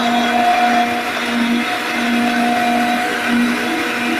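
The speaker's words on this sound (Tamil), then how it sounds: "இப்போ எல்லாத்தையும் அரைச்சி எடுக்கணும்." A mixer grinder whirs steadily at high speed, grinding tomato, onion and chili powder for a goat trotter curry, loud and continuous with no talk.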